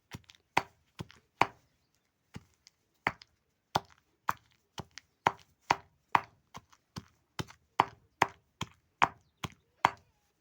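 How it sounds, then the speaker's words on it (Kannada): Roasted peanuts are pounded by hand for a pundi palya chutney, making about twenty sharp, close thuds in an uneven rhythm with short silences between strikes. "ಸ್ವಲ್ಪ ಹುರಿದಿದ್ದು ಶೇಂಗಾ ಕಾಳು ರೀ. ಈಗ ಇದನ್ನು ಚಂದಾಗ ಕುಟ್ಬೇಕ್ರಿ."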